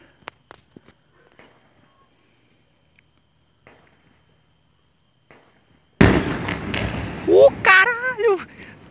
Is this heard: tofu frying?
no